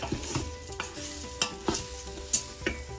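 Ingredients for a bean soup, seasoned with salt, sautéing in a pot and being stirred, giving several close scraping strokes over a low sizzle with no talk.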